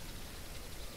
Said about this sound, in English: I really love the rain in this game.